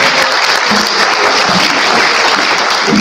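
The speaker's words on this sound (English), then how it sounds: "Let's give him some love by giving him a hand clap." Loud, sustained applause fills the room as a church audience claps for a speaker at a celebration of life service, dense and even throughout with no talking over it.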